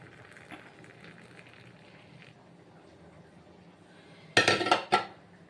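Cups and spoons clink together while coffee is being made at home, a few sharp ringing clatters arriving near the end after a stretch of quiet room noise.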